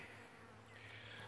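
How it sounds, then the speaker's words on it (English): A few bees around a wine barrel, a faint, thin insect buzz droning steadily over a low background hum for a brief moment. "got a few bees."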